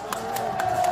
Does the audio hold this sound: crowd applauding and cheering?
yes